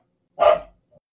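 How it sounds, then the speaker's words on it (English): A single dog bark rings out nearby, one short loud burst that trails off quickly, followed by a faint brief yelp. "now replace my real name with the sound of my dog barking"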